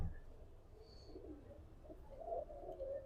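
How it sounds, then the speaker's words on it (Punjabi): Racing pigeons cooing in a loft, low throaty coos that swell and fade in a soft, continuous murmur, moderately faint with steady background noise. "ਬੜਾ ਸਨੱਖਾ ਕਬੂਤਰ ਹੈ ਜੀ"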